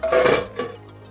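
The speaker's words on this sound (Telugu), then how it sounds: "కొద్దిగా మూత పెట్టేసుకుందాం" A metal lid goes onto a cooking pot of mutton curry: two light clanks, the first a little louder and the second a brief ring, with a low hum behind them.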